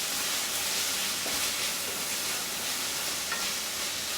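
Bacalhau with cream cooks in a pan with a steady, even sizzle that holds at moderate loudness throughout, close by and with no talking or other sounds.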